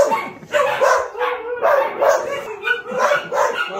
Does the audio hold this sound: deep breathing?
no